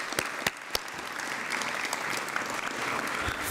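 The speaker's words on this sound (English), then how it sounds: "Yes, I think that deserves a round of applause." A university hall of fame ceremony audience applauds in a steady wash of many hands, with a few sharp nearby claps at the start, moderately loud and without speech.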